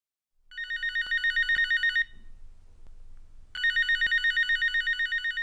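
A telephone rings close and loud in two bursts of rapid trilling bell tones, separated by a short quiet pause.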